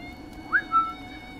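A short two-note whistle from a character in the stealth video game Styx: Master of Shadows. It rises sharply and then holds a steady tone, standing alone over a quiet game ambience.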